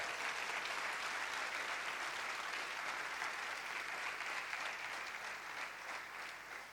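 Sustained applause from a church congregation during a sermon, dense and steady clapping throughout, slightly easing toward the end.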